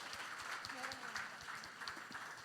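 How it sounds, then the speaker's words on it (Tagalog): A church congregation claps during an online worship service, a faint, steady patter of many hands with a rhythmic beat, distant and quiet, with voices over it. "Isa pa nga pong malakas na palakpak para sa ating Panginoon."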